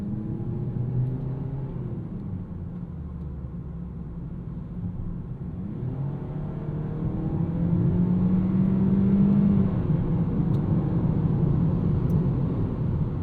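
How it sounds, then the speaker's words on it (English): A 2026 Toyota Corolla Hatchback FX with its M20A engine hums along while driving, a steady low drone and road rumble that swells slightly louder partway through. "This M20A engine is not the quietest thing in the world, but also not the loudest."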